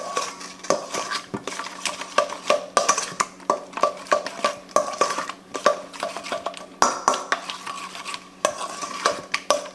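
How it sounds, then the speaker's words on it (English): A whisk or spoon scrapes and clinks steadily around a bowl of beer batter mixed with mayonnaise and mustard for battered fish, in quick irregular strokes, close and fairly loud with no talking. "Now we're going to give it a little mix."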